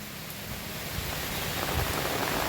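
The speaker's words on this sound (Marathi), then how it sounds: "लोणावळ्यातील हा पाऊस बघा धुवाधार पाऊस आहे" Heavy monsoon rain in Lonavala pours steadily, a dense, even hiss of water drumming on surfaces with no voices.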